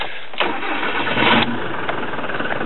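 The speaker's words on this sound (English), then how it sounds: "We might as well try and start it up." A Ford Transit Mk 6 diesel engine cranks and catches, then settles into a steady close, loud idle with a brief rise in revs partway through.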